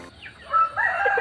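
An Aseel rooster crows once in a backyard, a close, loud, rising call that holds and wavers toward its end, with no voices.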